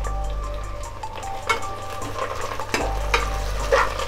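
Green chilies, mint and coriander stirred in a pan for chicken biryani, a steady close frying sizzle with scraping spoon strokes and a few louder clatters, no voices.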